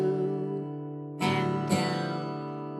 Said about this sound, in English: If I strum it without a chord and slow it down, it sounds like this.